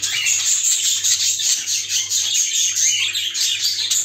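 Dense, continuous high chirping and twittering from four grey pet birds, close and loud, with a faint steady hum beneath.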